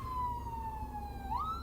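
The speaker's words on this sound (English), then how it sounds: "as I'm listening to a ambulance fly by me." An ambulance siren passes nearby, a steady wailing tone that drops in pitch and then shifts to a higher rising note, heard over a constant low traffic rumble with no speech.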